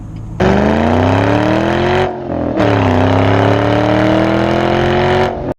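A 2007 Ford Mustang GT with a 4.6-liter three-valve V8 revs hard, its pitch climbing steadily, dropping briefly between shifts, then climbing again before cutting off; loud and close, with no talk.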